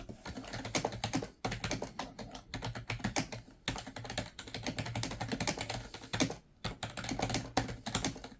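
Fast, continuous clacking of keys on a computer keyboard, close by, with a few short breaks between bursts; no talking.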